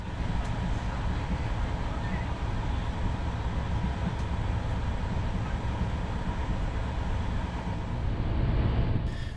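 Steady low rumble and rolling hum inside a PKP EuroCity train travelling from Berlin to Warsaw, smooth and constant with faint rattles, heard throughout without talk.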